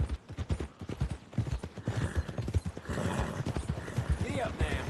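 Horse hooves clip-clopping at a steady trot in the video game Red Dead Redemption 2, close and rhythmic, with a brief whinny and voices talking over the hoofbeats.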